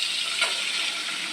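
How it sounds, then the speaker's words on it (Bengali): Rice boiling in a pot on a home kitchen stove, giving a steady, close, bubbling hiss that runs unbroken and even for under two seconds. "চলো এখানে ভাত ফুটছে"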